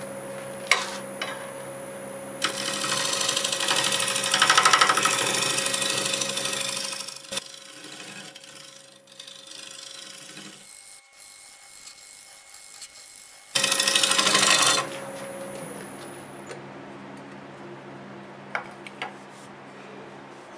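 A wood lathe turns a workpiece shaped with a negative rake scraper, producing a steady motor hum beneath two loud, rough scraping passes, one long and one short, with quieter spinning between them.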